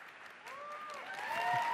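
Audience at the Facebook F8 developer conference applauding and cheering for Lola, founder of a Nigerian women's storytelling group, a broad wash of clapping that builds steadily louder with a few whistles rising above.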